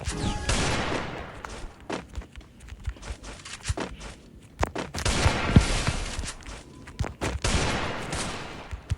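Gunfire in the video game Free Fire comes in loud dense bursts and rattling volleys, mixed with footsteps and other game sounds, with no talk.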